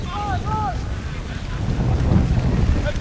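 Strong wind buffets the microphone at an outdoor rugby match between Aitutaki Sharks and Ngatangiia/Matavera Sea Eagles, a steady rushing roar with faint whistling tones and commentary underneath.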